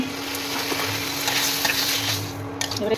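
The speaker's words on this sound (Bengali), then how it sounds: "এখানে একটু নাড়িয়ে নিচ্ছি।" Kochur loti curry with mustard and onion sizzles steadily in a pan while being stirred, a close, continuous frying hiss with soft scraping, no talking.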